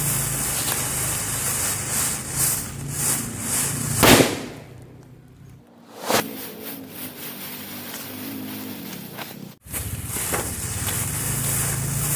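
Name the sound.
firecracker going off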